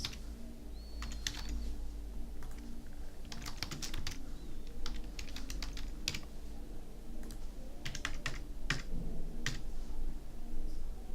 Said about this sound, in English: And now we're going to type in the address.